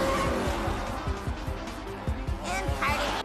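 Race cars in an animated racing film, featuring Vanellope, roar off the starting line, with dense revving engines and squealing tires building into a continuous, loud rush of motor noise.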